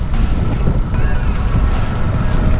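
A small fishing boat pounds through rough, whitecapped waves, with loud close wind buffeting the microphone over a constant engine and water roar and no pauses.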